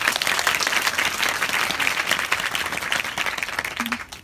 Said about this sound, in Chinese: 所以我们给威廉一个掌声